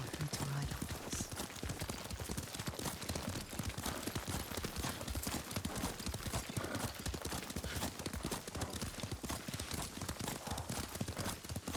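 Rapid rhythmic horse hoofbeats at a gallop in the video game Ghost of Tsushima, with steady clip-clop continuing throughout and occasional voices speaking over it.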